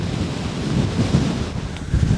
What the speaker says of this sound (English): Now, it's really windy up here,